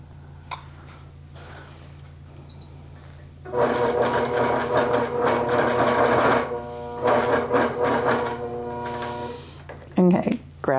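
A sewing machine stitches a tree wall-hanging, running in a steady whirring burst for several seconds with a short pause and a second run, preceded by a few soft clicks and light handling noises.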